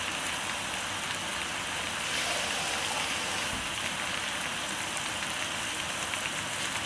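Water poured from a jar into a pot of chicken during freezer meal prep, a steady bright splashing stream heard close and alone for several seconds.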